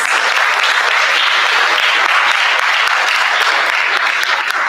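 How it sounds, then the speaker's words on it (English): A large audience at a 2023 Cuba tourism product launch gives the ambassador a round of applause: dense, continuous clapping, loud and close throughout with no talk over it. "I want you to give him a round of applause"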